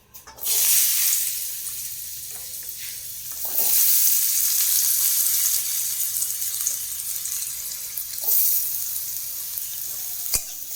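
Potatoes fry in hot oil seasoned with garam masala, a loud close sizzle swelling in bursts as they are stirred, with occasional scrapes and a brief sharp knock near the end.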